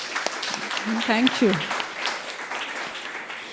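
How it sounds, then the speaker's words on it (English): Audience applause during a talk on women's leadership in India: steady clapping runs throughout, moderately loud, while a person speaks briefly over it near the middle. "I think that deserves a huge round of applause, everybody."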